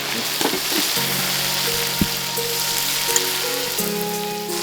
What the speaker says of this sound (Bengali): এবার আমি মাংসটা এটাতে ছাড়বো